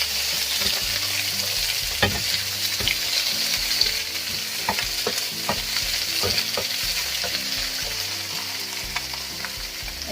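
Chinese kale stir-fried with oyster sauce in a pan, a steady loud sizzle with repeated scraping and tossing of the spatula throughout, no voices.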